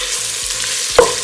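Vegan chicken strips sauté in hot oil, a steady close sizzle with a sharp clatter of a utensil stirring near the end.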